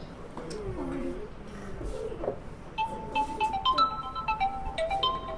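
A phone ringtone of bright electronic tones plays a stepping melody partway through, over a low murmur of background noise.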